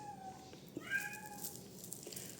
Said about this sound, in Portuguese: Coloca aí, Misael, esse gato lá fora.